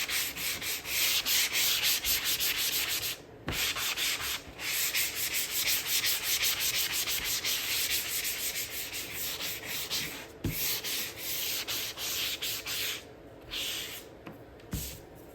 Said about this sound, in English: I'm going to sand this and get it ready to go for painter's tape